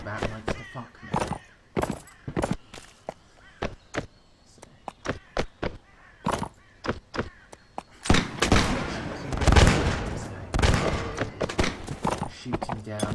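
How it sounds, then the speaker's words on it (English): Video game gunfire cuts down charging pirates, sharp separate shots at an uneven rhythm, then a denser loud stretch of shooting and impacts, with someone talking over parts of it. "Shooting down quite a lot of these charging pirates."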